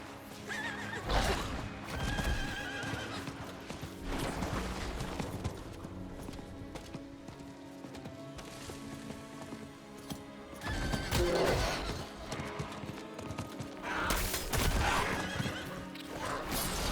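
A horse in the Diablo 4 video game neighs and whinnies several times over a steady clip-clop of hooves, loud and continuous with game ambience, no speech.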